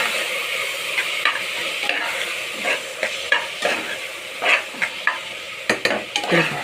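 Chopped tomatoes being fried in a home kitchen pan with a little oil, ginger and garlic: a steady sizzle runs throughout, broken by repeated scraping and stirring strokes from a utensil, with no talking.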